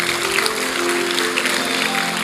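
A church congregation at a Sunday service claps in a dense, sustained burst that fills the room, with an organ or keyboard tone held underneath.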